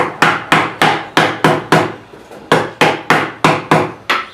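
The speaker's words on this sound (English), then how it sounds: "I'm going to take a hammer and a piece of wood and kind of just" A hammer knocks on a block of wood to seat dust collector ductwork, about fifteen sharp, evenly spaced taps, close and loud, with a short pause midway and no talking.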